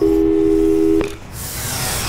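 Steady two-tone telephone dial tone in the Portal 2 video game, holding loud for about a second before cutting off to leave quiet electronic hiss.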